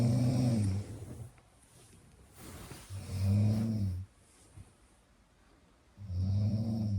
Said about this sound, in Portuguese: A minha esposa ronca. Mas não é um ronquinho normal, parece um trator.